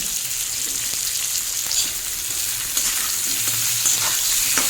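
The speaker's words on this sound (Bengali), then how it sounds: "আলু 3 মিনিট ভেজে নিয়েছি" Potatoes frying in a pan, a steady close sizzle with occasional light stirring scrapes, continuous and fairly loud with no talking.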